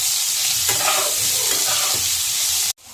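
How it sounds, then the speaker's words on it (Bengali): Potatoes seasoned with salt and turmeric fry in a pan with steady loud sizzling while a utensil stirs them in scraping strokes. The sound cuts off abruptly near the end. "আলুগুলোকে লাল লাল করে আমি ভেজে নেব।"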